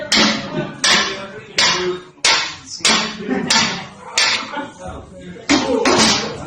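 Repeated sledgehammer blows strike a driver tool to knock cam bearings out of an engine block, about ten sharp metallic impacts at a steady pace, each ringing briefly before the next.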